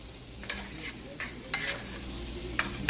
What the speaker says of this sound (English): We're going to go ahead and put that into a medium heat pan. Okay? And we're going to let that melt down.